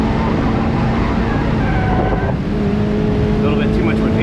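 A Mazda MX-5 ND runs on a race track under light throttle, its engine giving a steady, loud drone with harmonic tones throughout while a person talks over it.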